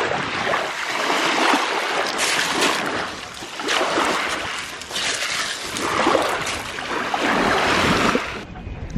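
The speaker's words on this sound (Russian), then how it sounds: "Так классно, шум волн, чайки." Black Sea waves wash and break on a beach in repeated surges, with wind buffeting the microphone throughout.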